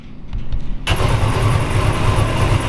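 A 1937 Ford two-door slantback street rod with a 502 big block cranks briefly, then fires into a loud, rumbling idle with a steady throb, close up.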